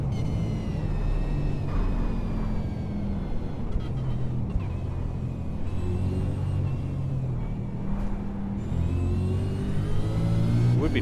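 A supercar engine in a racing game revs and surges through laps, a continuous loud rumble whose rising and falling whine tracks shifting speed.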